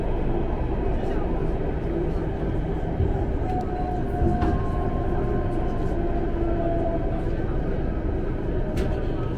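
A Shanghai Metro Line 4 train rumbles along steadily with a constant low roar and faint squeals, loud and enveloping throughout, with a voice talking over it.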